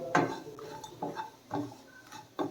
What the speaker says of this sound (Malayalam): അതൊന്ന് ഇളക്കി കൊടുക്കുക, അല്ലെങ്കിൽ ഇത് പെട്ടെന്ന് തന്നെ കരിഞ്ഞു പോവും.